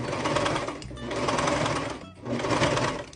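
A coverstitch sewing machine runs through fabric in two long bursts of fast, steady whirring, close and loud, with a brief pause between them.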